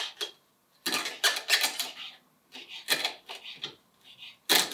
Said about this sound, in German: Wir schneiden das jetzt einmal alles her, sehr fein.